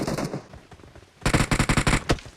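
Gunfire in the Free Fire video game: a few scattered shots, then a rapid close burst of about ten loud automatic rounds and a final shot.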